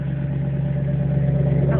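A rebuilt Ford Mustang engine runs at a steady idle just after its first startup, giving a close, even, low rumble with a constant hum and no change in revs over the brief stretch.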